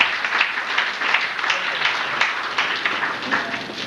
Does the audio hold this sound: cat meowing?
no